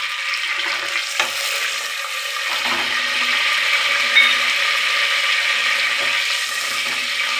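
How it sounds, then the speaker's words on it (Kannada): Mint leaves and spices frying in hot oil in a pan, a steady loud sizzle that runs continuously with a few faint clinks, no voices. "ಈಗ ಎಣ್ಣೆ ಬಿಸಿಯಾಗಿದೆ. ಒಂದು 2 ಎಲೆ ನಾವು ಪುದೀನ ಸೊಪ್ಪು ಹಾಕ್ಕೋತಾ ಇದ್ದೀನಿ. ಮತ್ತು ಸ್ಪೈಸಸ್ ಹಾಕ್ಕೋತಾ ಇದ್ದೀನಿ."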